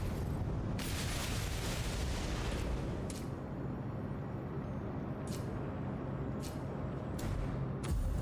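Missile Barrage spell explosions in the video game AI Limit: a low rumbling roar of blasts with a few sharp crackling bursts spaced through, fairly faint and without talk.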